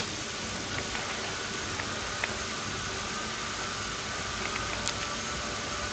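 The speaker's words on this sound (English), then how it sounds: "Sorry if you can hear hooving in the background." A vacuum cleaner runs steadily in the background, a constant whooshing drone with no pauses.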